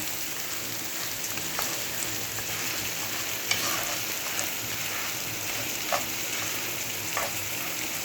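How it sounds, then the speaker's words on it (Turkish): Rice and orzo toast in oil in a pot, giving a steady close sizzling hiss with a few sharp crackles and pops scattered throughout, and no voices. "Pirinci de koyduk. Arpalar da güzel kızardı ya."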